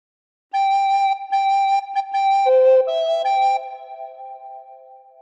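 Recorder playing a short phrase of What Shall We Do With the Drunken Sailor, a run of clear, breathy whistle-like notes stepping down in pitch, close and solo, with the last note held and fading.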